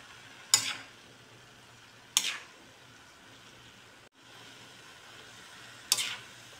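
Pancit bihon noodles being stirred and fried in a pan, a quiet background sizzle broken by three sharp scraping strokes, each fading quickly, close and without talk.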